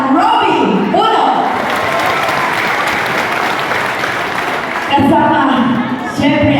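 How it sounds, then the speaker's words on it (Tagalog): Crowd at a political rally applauding loudly through the middle of the clip, with an amplified voice on a PA speaking before and after the clapping. "Pwede ba humingi ng isang palakpak para sa ating mga barangay bago ngayon?"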